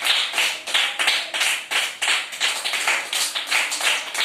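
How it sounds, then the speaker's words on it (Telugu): A group of children clap their hands in an uneven, steady rhythm to cheer on a classmate walking a line during a school physical development activity, the claps close and lively throughout. "మీరు ఎంకరేజ్ చేయండి క్లాప్స్ ఇస్తూ"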